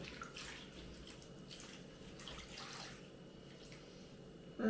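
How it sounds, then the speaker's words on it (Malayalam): Water splashes steadily into a cooking pot, a continuous gushing pour with a faint clatter at the end. "നമുക്കിനി ആവശ്യത്തിന് വേവാൻ ആവശ്യത്തിന് വെള്ളം ഒഴിച്ചു കൊടുക്കാം"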